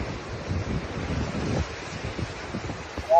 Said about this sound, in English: Look at those massive waves.